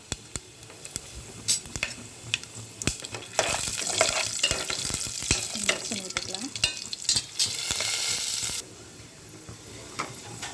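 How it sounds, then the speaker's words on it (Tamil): Whole black pepper, cumin and fennel seeds sizzle in hot oil as the base for a fish kuzhambu curry, a steady crackling hiss with stirring scrapes and clicks that grows louder midway, with no talking. "எண்ணெய் சூடானதும் அதில் மிளகு, ஜீரகம், சோம்பு இதெல்லாம் அதில் போட்டுக்கலாம்"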